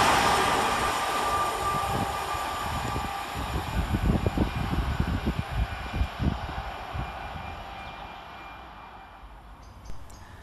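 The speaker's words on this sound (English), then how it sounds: "Another one taking us by surprise is 331015 and 331014, working 1 November 54 from Manchester Airport to Blackpool North." Two coupled Northern Rail class 331 electric multiple units passing through Moses Gate railway station, a steady rolling rumble that builds to rhythmic wheel clatter over rail joints mid-way, then fades away as the train departs.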